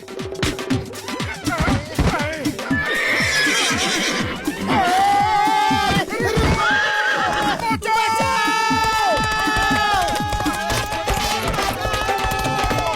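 A horse neighs and whinnies several times, loud and close, amid lively crowd noise, children's shouts and a busy, cluttered background.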